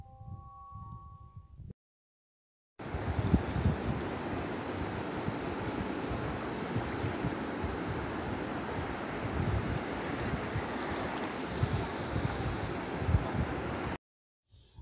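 Broad, steady roar of sea surf washing onto a beach at a resort, constant and fairly loud with gusts of wind noise across the microphone, no voices, with a short silent gap near the start.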